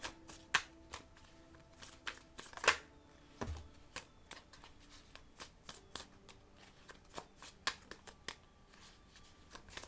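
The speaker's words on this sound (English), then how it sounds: "I'm going to take another couple cards." Tarot cards handled and drawn from a deck, a run of soft, close shuffling and flicking snaps with occasional sharper taps, quiet and without talk.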